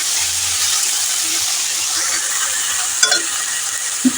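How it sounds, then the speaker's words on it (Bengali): Potatoes with a little ginger being stirred in a frying pan, a steady hiss of frying with a couple of brief scraping clinks near the end. "এবার আলুটা একটু ভালো করে নাড়াচাড়া করে একটু চাপা দেবো"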